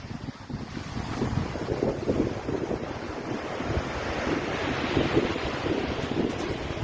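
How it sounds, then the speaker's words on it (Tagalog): Strong ocean surf pounds the shore at Santa Quezon, Ilocos Sur, a loud, rushing wash of breaking waves mixed with gusty wind buffeting the microphone, swelling and receding continuously with no voices. "Ang lakas ng alon pa rin, oh."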